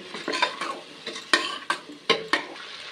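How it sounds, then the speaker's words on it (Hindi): Vegetables fry in oil for aloo tahari as a spoon stirs them, scraping and clinking against the pot in quick repeated strokes over a crackling sizzle, close and fairly loud, with no talking. "अब इसमें मैं सब्जियां डालूंगी, थोड़ी देर सब्जियों को भूजूंगी इसी में"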